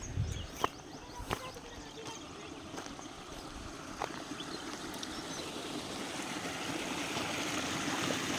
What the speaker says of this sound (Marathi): नुसतं गरम पाणी पडतंय, एवढं गरम पाणी आहे